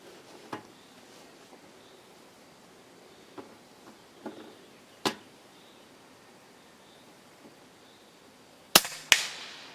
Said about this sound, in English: couple of maximum power shots in 25 with King regular pellet.